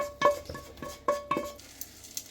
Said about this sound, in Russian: Я буду готовить большую сковороду крем-супа, поэтому пересыпаю в соответствующую кастрюлю